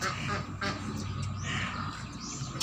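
Ducks quack in a short, busy run of calls over a steady outdoor background rumble, close and fairly loud.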